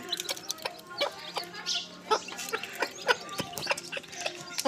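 A country hen clucks repeatedly close by while her chicks peep in short, overlapping bursts, steady and fairly loud throughout with no talking.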